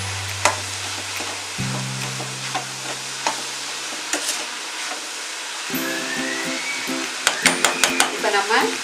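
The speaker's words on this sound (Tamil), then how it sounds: "நான் கொஞ்சம் சால்ட்டு போட்டு வதக்க போகிறேன்" Onions sautéing with salt in a pan for an egg gravy, a steady sizzle with occasional stirring clinks and scrapes, close and moderately loud, with a low hum underneath.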